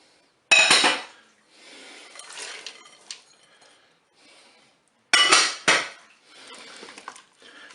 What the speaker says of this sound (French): Je vais ajouter maintenant mes légumes. Alors, peu importe l'ordre dans lequel vous les déposez dans le Cookéo.